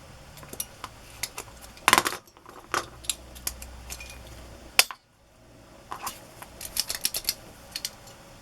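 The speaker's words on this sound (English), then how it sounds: "This is an old paper punch." An old, worn paper punch works through craft tags with a run of sharp metallic clicks and clacks, some louder snaps and brief pauses between them, close by with no talking.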